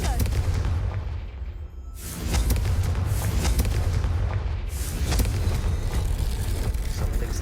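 A Confringo fire spell bursts in Hogwarts Legacy, a loud booming blast rolling out after a brief lull, followed by another heavy surge of rumbling explosion noise, continuous and close.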